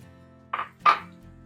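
Diced onion dropped into a pot of melted butter, heard as two short close clatters with a brief sizzle, set against quiet room hum.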